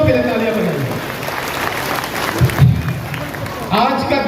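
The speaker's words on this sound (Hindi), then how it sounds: "एक बार इस संस्था के लिए ऊर्जा के इस अच्छे स्रोत के लिए तालियां बजाइए।" Loud audience applause and crowd noise fill a poetry gathering at the NTPC campus in Kahalgaon, Bhagalpur. The clapping is steady and continuous, with voices talking through it.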